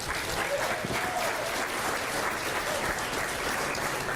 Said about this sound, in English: give yourselves one more round of applause for coming in a day early to pour into this training